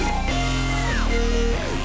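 A dense FL Studio trap melody sample for a hard beat, processed with Gross Beat and Portal effects and with the low end removed, plays loud and continuous with stuttering chopped chords and pitch-bending swoops, no voices.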